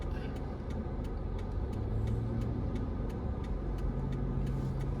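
A car turn signal ticks in an even, steady rhythm, about two clicks per second, quiet and close over a low engine hum inside the vehicle.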